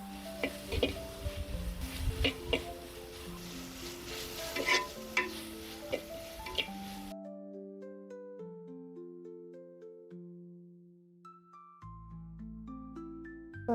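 Chopped onions being stirred in a pan of hot oil with popped mustard seeds: a spoon scrapes and the pan sizzles with irregular clinks for about seven seconds, then clear musical tones take over.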